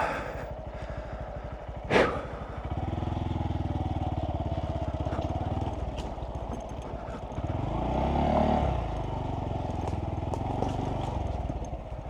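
A Honda Monkey motorcycle rides off road over rough, soft ground, its engine droning steadily up close and rising and falling with the throttle, while wheels thump and rattle and one sharp knock cuts through early on.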